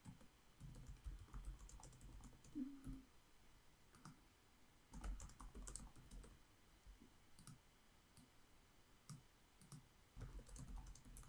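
Typing on a computer keyboard, a steady patter of clicking keystrokes through the whole stretch, quiet and close, with occasional louder key presses and no voices.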